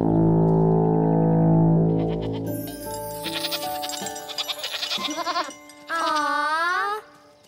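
Cartoon goats in an animated children's farm scene from the series Justin Time bleat several times, loud, wavering, nasal cries following a low sustained horn-like drone, with no talking over them.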